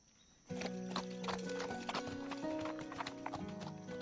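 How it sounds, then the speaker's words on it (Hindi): A ridden horse's hooves clip-clop in a steady rhythm, with a trotting gait that starts suddenly and carries on near and clear, joined by a faint whinny partway through and no talk. "तुम्हें घोड़ा चलाना नहीं आता ना?"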